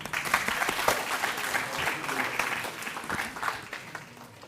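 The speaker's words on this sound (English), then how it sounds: "A big round of applause for everyone." Audience applause at an inauguration ceremony for a college fest, a dense, steady burst of many hands clapping that carries on throughout and eases slightly toward the end.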